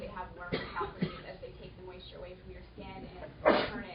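A single sharp sneeze bursts out near the end, amid a person talking steadily.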